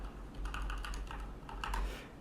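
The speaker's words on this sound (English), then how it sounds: "with this keyboard, it makes a sound when it bottoms out" An IBM keyboard, a Model M or Model F, typed on up close: a short burst of crisp, distinct key clacks as the keys bottom out, roughly a dozen strikes, quiet and with no talking.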